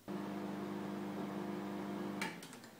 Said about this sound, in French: vous le mettez au micro-ondes environ 10 secondes